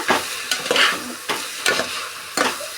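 Roasted rice added to a frying pan and stirred with a spatula while making akki husli, giving rhythmic scraping and rustling strokes with a soft sizzle underneath, close and without talk.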